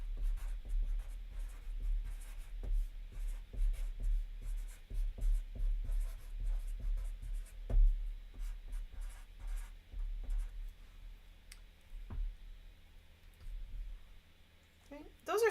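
Pencil or pen writing by hand on paper during an English writing class, a steady run of short scratchy strokes and taps, close and fairly clear, with a few louder knocks and brief voice sounds near the end.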